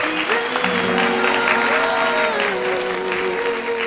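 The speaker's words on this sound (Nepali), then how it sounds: "हाम्रो भाइलाई पनि हामी ताली बजाएर" Applause at Bishal and Usha's wedding fills the space with steady, dense clapping from the guests. A sustained tone runs underneath the clapping, and no one speaks over it.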